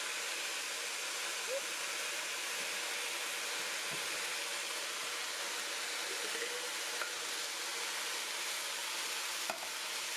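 Rice and tomatoes are stirred in a pot for jambalaya with a soft, continuous scraping and faint sizzle, quiet and steady with a few small clinks.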